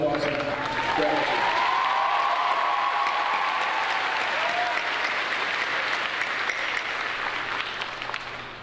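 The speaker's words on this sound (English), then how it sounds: "Would Mr. and Mrs. Lisa please stand again as we give you a round of applause and gratitude" A large crowd at a 2022 high school graduation ceremony gives a sustained round of applause, broad and even throughout, with a faint murmur of voices mixed in before it tapers off at the end.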